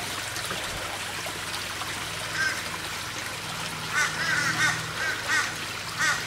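Garden pond water trickles steadily through a gravel filter and downhill between tanks, a soft continuous wash with occasional squeaky bird or duck-like calls breaking in near the end.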